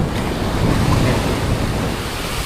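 Ocean waves and strong wind on the open Pacific Ocean surge in a continuous loud wash, with gusts of wind across the microphone and no voices.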